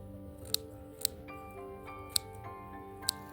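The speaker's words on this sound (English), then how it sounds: "to harvest, I use a clean scissors to cut the stems just above a pair" Clean scissors snip thyme stems above a pair of leaves, four crisp, short clicks spaced irregularly over a few seconds, close but quiet against a soft background hum and faint tonal noise, with no talking.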